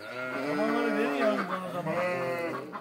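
Sheep bleat loudly and close by in cold, icy weather at a Turkish farm where they are fed and watered, one long wavering call followed by another.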